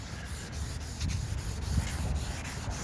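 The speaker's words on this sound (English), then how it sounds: "Next step is wet sand. Sand your piece." Close, rhythmic rubbing of wet sandpaper over filler on a gas pipe handrail, with steady back-and-forth strokes at an even, moderate loudness.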